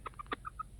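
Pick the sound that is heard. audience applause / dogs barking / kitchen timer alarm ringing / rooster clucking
rooster clucking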